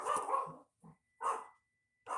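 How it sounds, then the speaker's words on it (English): A small dog barks in short, separate yips at some distance, three or four quick barks with brief pauses between them. "And we have my dog Bark in the background."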